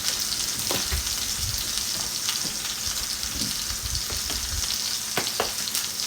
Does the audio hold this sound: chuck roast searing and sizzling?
yes